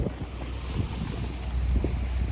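Wind gusting across an exposed fishing pier at Gemsaz in Bursa, a steady low rumble and buffeting on the microphone, fairly loud and continuous with no voices.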